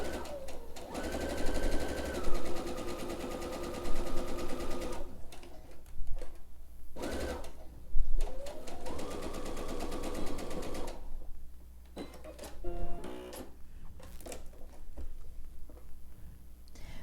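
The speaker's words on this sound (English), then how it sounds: "We're going to go ahead and stitch using a 1/4 inch seam allowance" A sewing machine stitches fabric for a face mask, close and loud, running in several bursts of rapid whirring with short pauses and clicks between runs.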